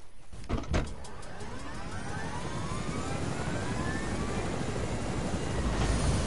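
A video game helicopter, its rotor and turbine drone building steadily from a faint start to a loud, sustained whine with a slowly sweeping pitch.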